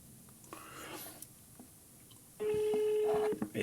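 After a few faint, quiet noises, a single steady telephone ringing tone sounds clearly for about a second, then cuts off.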